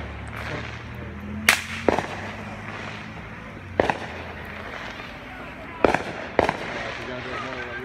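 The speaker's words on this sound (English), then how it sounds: "Yo, this guy has this crazy firework, bro." Fireworks burst out in a street, several sharp loud cracks and bangs in an uneven sequence, some in quick pairs, with people talking and shouting throughout.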